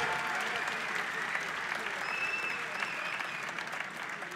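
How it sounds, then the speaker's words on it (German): Dense, continuous audience applause fills an arena after a fight between two martial arts fighters, a steady wash of many clapping hands at even loudness throughout, with a faint whistle partway through. "geben Sie einen Applaus für zwei wirklich große Kämpfer."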